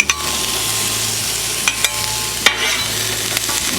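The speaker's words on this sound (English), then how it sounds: "Okay, we're going to start with our onion." One small onion sizzling outdoors on a hot Blackstone griddle, a loud, dense, continuous hiss with a few sharp spatula taps, close up and without speech.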